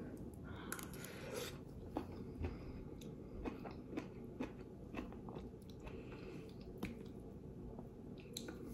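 Someone chews takeout food from a Quebec restaurant up close, with soft squishy bites and wet mastication sounds repeating over quiet background noise.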